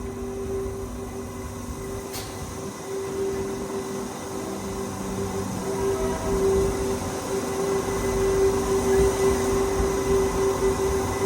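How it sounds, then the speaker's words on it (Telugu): Steady rumble and hum of a MEMU passenger train running from Shadnagar toward Raichur, heard from on board, with a constant tonal whine over broad rolling noise that slowly builds. "12 గంటల 33 నిమిషాలకి షాద్ నగర్ నుంచి మన బండి బయలుదేరింది."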